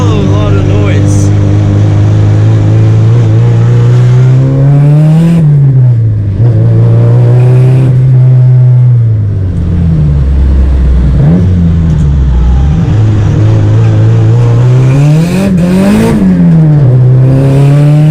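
A car with a Nissan SR20 engine runs very loud and close, its engine drone rising and falling as it revs, while a voice talks over it.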